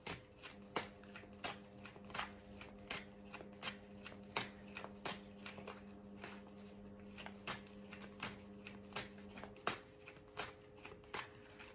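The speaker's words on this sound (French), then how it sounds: "Donc on va faire des coupes pour bien mélanger." Tarot cards being shuffled and cut, a steady series of crisp riffling slaps repeating about every half second, close and fairly quiet, with a faint steady hum underneath.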